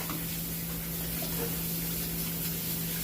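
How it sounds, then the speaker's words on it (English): Tap water runs steadily while hands are washed at a kitchen sink during cooking prep, a continuous hissing splash close by with no talk over it. "let me wash my hands really quick"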